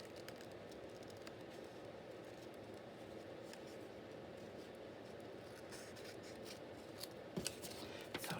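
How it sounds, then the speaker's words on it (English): Small scissors snipping around paper shapes while fussy cutting for a mini scrap journal, a quiet, close series of soft cuts and rustles with a few sharper clicks near the end. "So I'll just fussy cut this."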